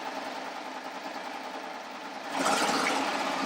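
A serger sewing machine runs steadily through fabric trimmed with a pinked edge, a close, continuous mechanical whir that rises in speed and loudness near the end.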